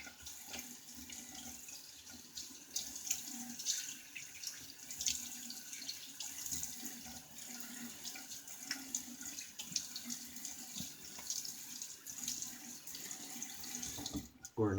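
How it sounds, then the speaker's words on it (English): Tap water runs steadily into a sink while a Schick Type O injector razor is rinsed, a continuous close splashing hiss with small knocks and clinks throughout. "Let me get a quick rinse."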